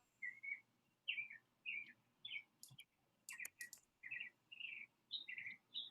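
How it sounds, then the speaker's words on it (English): Birds chirp in a string of short, bright whistled calls repeated at a steady pace, faint and somewhat distant, with a few sharp clicks scattered among them and no talking. "Who's got the birds chirping?"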